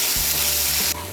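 Chopped onion fries to a brown colour in a pan, a dense steady sizzle with a low rumble that drops slightly in loudness near the end of the short stretch.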